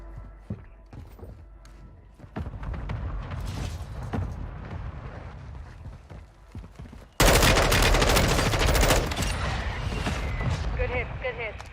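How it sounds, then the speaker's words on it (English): Mortar strike in Modern Warfare 3: dense bursts of gunfire build under game radio chatter, then a sudden loud, sustained barrage of explosive impacts takes over for the rest of the clip. "Mortar strike inbound now."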